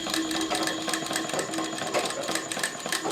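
A sewing machine stitches cord piping on fabric, a steady fast mechanical whir and rattle running continuously at close range, no voices.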